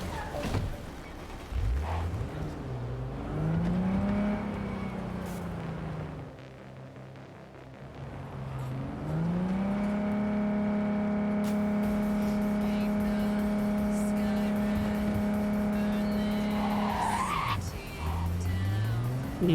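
A car in Cyberpunk 2077 revs and drives, with engine pitch rising and falling and long tire squeals as it skids through turns, fairly loud and close throughout.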